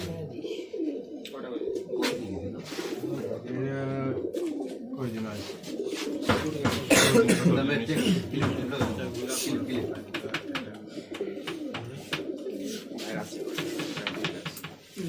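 Pigeons coo repeatedly at a 31 km pigeon race, with people talking over the birds throughout. Busy crowd chatter runs alongside the cooing, with scattered clicks and handling noises.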